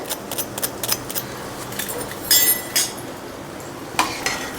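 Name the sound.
crunching crispy fried cheese chili balls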